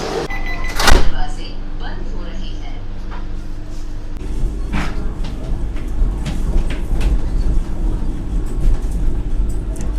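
A Vande Bharat Express halts at Nellore station on the Secunderabad–Tirupati run: one sharp loud clank early, then steady low rumble and crowd bustle, with people talking nearby.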